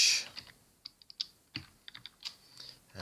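Someone types on a computer keyboard with irregular, close key presses, single taps and small clusters of clicks spread over a few seconds, with no voices.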